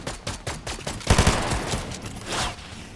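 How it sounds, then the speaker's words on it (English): Rapid bursts of gunfire in a shooter video game, a crackling fusillade of many close shots in quick rhythm with a louder cluster in the middle. "Who's shooting?"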